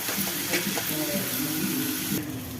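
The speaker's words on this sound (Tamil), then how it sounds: "உப்பு போடும்போது வெங்காயம், தக்காளி சீக்கிரமாக வதங்கிடும். இதை நல்லா வதக்கிக்கலாம்." Onions and tomatoes sautéed with salt sizzle and crackle in a pan, a steady close frying hiss with light stirring scrapes, soft and continuous.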